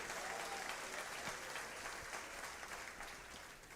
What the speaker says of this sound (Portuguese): Dê um aplauso a Ele, bem forte,